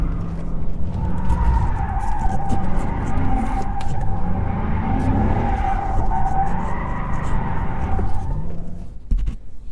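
A Dodge Charger or Challenger drifts, its tires skidding in a long continuous squeal over a loud engine rumble for about eight seconds before cutting off near the end.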